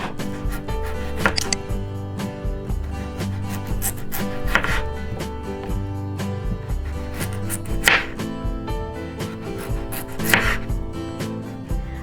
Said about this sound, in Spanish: Las cortamos en rodajitas una vez que hayamos terminado de pelar todas las papas.